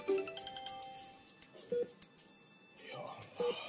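A mobile phone ringtone plays in short repeated melodic bursts, with a clear electronic tone at the start and two more spaced chirps later, alongside soft background noise in a hospital setting before surgery.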